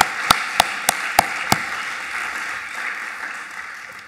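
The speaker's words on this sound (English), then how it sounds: "Give each other a round of applause." Year 12 students at a school valedictory assembly applaud each other; several loud, distinct claps ring out near the microphone, then the sound settles into a softer, steady spread of clapping across the room.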